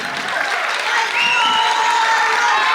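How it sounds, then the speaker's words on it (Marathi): An audience applauds loudly at a school parents' dance event, a dense, steady clatter of clapping that swells slightly partway through and continues to the end. "त्यांसाठी जोरदार टाळ्या झाल्या पाहिजेत"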